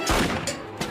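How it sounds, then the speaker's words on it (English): Gunfire in a Family Guy cartoon scene: a short burst of loud, sharp gunshots, about three quick blasts in under a second, close and punchy with a dense, layered crack. "He's got a gun!"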